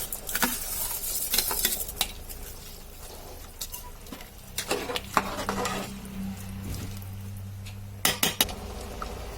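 Washed rice stirred into a pot of home-style pulao: repeated metal spoon clinks and scrapes against the pot over a soft sizzle, in uneven bursts, close and without speech.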